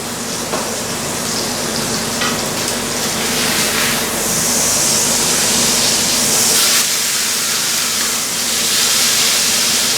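Steak searing in a hot buttered pan with its fat edge pressed down, giving a steady close sizzle and crackle that runs unbroken throughout with no talking.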